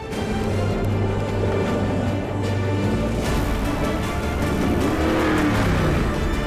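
A 3.75-ton Mercedes G63 AMG 6x6 drives over big sand dunes, its engine droning steadily up close with rising revs and a broad rumble of tires churning sand, no talk.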